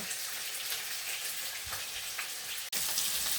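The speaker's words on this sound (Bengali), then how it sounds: "এই তো পানি দিয়ে বসাই দিচ্ছি, এটা ঢাকা দিব না, চুলা হাইয়ে আছে" Fish curry in a pot on a stove set to high heat, a continuous bright hissing sizzle as water goes in, steady throughout with a brief break near the end.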